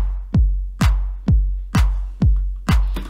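A Roland 909 house pattern plays a deep, booming four-on-the-floor kick on every beat, with a sharp clap on the backbeats. The groove is loud and steady, about two beats per second, with no voices.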